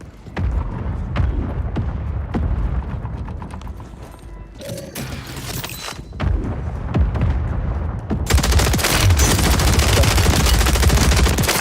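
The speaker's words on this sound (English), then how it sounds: "Friendly mortar strike on the way." Warzone mortar strike in Call of Duty, with dense, rapid automatic gunfire and mechanical clatter giving way to loud, sustained blasts and a heavy, broadband roar in the last few seconds.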